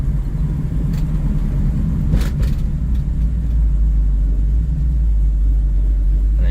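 Steady loud road rumble and low engine drone from a 1968 Pontiac Firebird driving along a road with crooked steering and misaligned body, continuous throughout with no talk.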